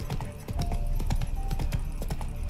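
Horse hooves galloping at a steady rapid clip-clop in the video game Witcher 3 Wild Hunt, loud and continuous with a dense rhythmic beat throughout.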